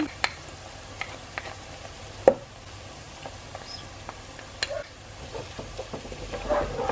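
Onion, ginger and garlic softening for a potato and cauliflower masala curry sizzle quietly in a pan. The low, steady frying hiss is broken by scattered clicks and scrapes as the mixture is stirred, with one sharper knock partway through.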